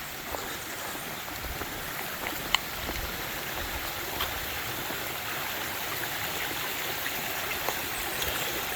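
A stream on the Ozark Highlands Trail runs after heavy rain, a continuous soft rushing and trickling of water, steady and moderately distant, with a few faint clicks and no voices.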